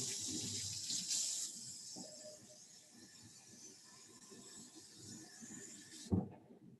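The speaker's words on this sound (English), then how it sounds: "It has to be fresh hot water." Fresh hot water running from a tap into a sink, a steady hissing splash that fades slightly, then cuts off with a soft knock near the end.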